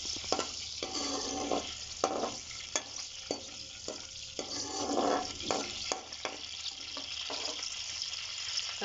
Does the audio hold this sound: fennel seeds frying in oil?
yes